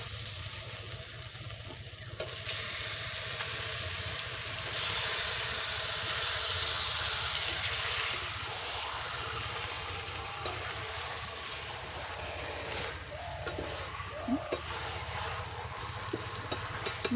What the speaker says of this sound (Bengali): এবার মাংসটা এটা ঢেলে দেব।